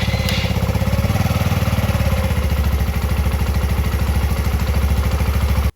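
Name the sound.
motorcycle engine starting and idling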